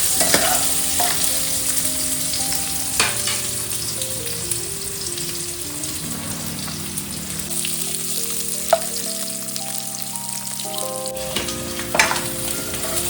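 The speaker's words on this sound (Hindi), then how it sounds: "थोड़ा सा आलू के अनुसार नमक डालेंगे। और इसे थोड़ी देर फ्राई करेंगे।" Potatoes fry in a pan with salt added, a steady close sizzle running throughout with occasional stirring scrapes and no voices.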